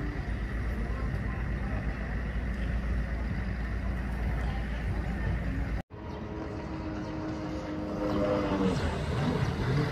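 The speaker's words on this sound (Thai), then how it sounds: "ระหว่างที่ร่องน้ำว่างๆแล้วไม่มียานพาหนะใดๆก็มีเจ็ตสกีมาขับแบบนี้นะครับ" A jet ski races along the Khwae (Kwai) River, its engine a steady, loud, close drone. The sound cuts out sharply for an instant midway, then returns and swells slightly.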